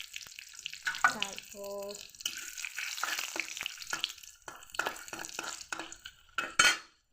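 Bay leaf and dried chilli frying in hot oil in a pan, a crackling sizzle with clinks of a utensil against the pan and a brief spoken word, close and moderately loud.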